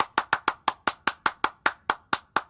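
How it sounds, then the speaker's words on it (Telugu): Hand claps at a ribbon-cutting ceremony for a business opening in a film scene, about a dozen sharp claps in a steady, quick rhythm, fairly close and clear, with no talking over them. "చప్పట్లు కొట్టండి"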